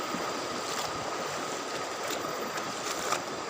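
The Cijalu river runs high and swollen in the rainy season, a steady, dense rush of flowing water that fills the whole stretch without break and with no voices.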